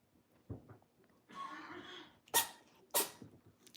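A pet cat sneezes a couple of sharp times in quick succession at close range, with soft sniffs and breathing before it in a quiet indoor room.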